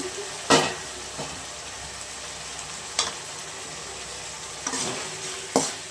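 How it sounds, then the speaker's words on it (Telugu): Tomatoes cook covered in a pan for a Rayalaseema-style potato curry, giving a steady soft sizzle with a few sharper stirring scrapes and knocks against the vessel, heard alone. "టమాటాలు పచ్చివాసన పోయేంత వరకు బాగా మూత పెట్టి చేసేద్దాము"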